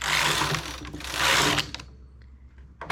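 A knitting machine runs in two long, loud bursts of mechanical whirring, like a carriage sweeping across the bed, then quietens to faint clicks and handling noises with no talk.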